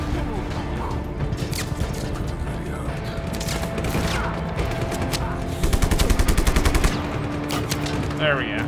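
Steady machine-gun fire from the video game Just Cause 3 runs throughout, swelling into a fast, dense burst of shots near the end, layered under in-game noise and a talking voice.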